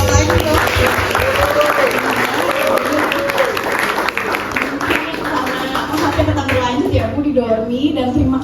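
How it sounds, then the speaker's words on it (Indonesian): Audience applause at a book discussion event, dense sustained clapping from a crowd throughout, with a voice talking over it. "tepuk tangan karena acara ini begitu luar biasa bagi saya sendiri"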